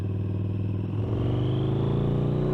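A Harley-Davidson V-Rod Night Rod's Porsche-designed V-twin engine idles close by, then rises into a rev, a loud, deep throbbing rumble that climbs smoothly in pitch.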